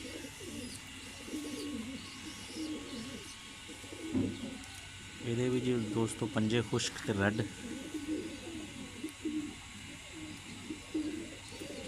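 Pigeons from a loft coo in soft rolling calls, with a louder burst of cooing midway, under someone talking about a hen pigeon's build.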